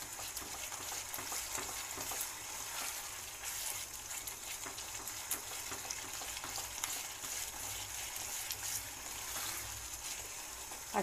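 Ridge gourd sabzi with sabzi masala sautéing in oil, a continuous even sizzle close by with light stirring scrapes, steady throughout with no voices.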